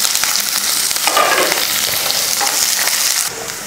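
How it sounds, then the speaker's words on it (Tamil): A large finely chopped onion and about ten small garlic cloves frying in oil with curry leaves, stirred in a pan for drumstick masala: a loud, continuous sizzle with steady scraping from stirring, close and without talk. "ஒரு பெரிய வெங்காயத்தை பொடியாக கட் பண்ணியிருக்கேன் அதை சேர்த்துக்கலாம்."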